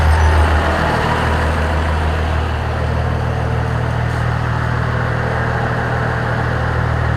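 A tractor engine, model 1600, runs loud and close as it raises the 3-point hitch, a steady heavy low rumble with only slight changes in pitch and no talking.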